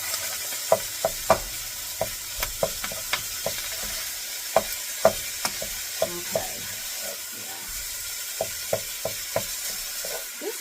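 Sausage sizzles steadily in a frying pan while a utensil breaks it apart, with sharp scraping taps recurring every second or so over the continuous hiss.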